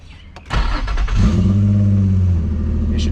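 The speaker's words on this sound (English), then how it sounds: "Now when you turn the car on," A car engine cranks briefly, catches with a loud roar and settles into a steady idle close by, with no talk over it.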